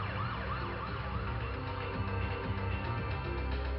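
A person's voice imitates a wailing siren, rising and falling in looping sweeps, held steadily and fairly loud throughout with no other talk.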